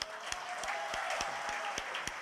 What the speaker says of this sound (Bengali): সবাই একটা তালি দেয়